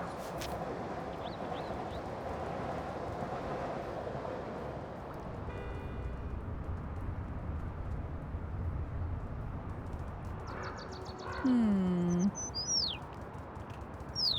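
Bird chirps from the video game Little Kitty, Big City, a few short tweets and a falling call standing out near the end over a steady bed of game ambience, fairly close.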